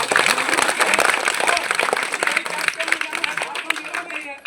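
An audience claps at a political gathering, a dense burst of applause fading toward the end, heard under a voice speaking over it.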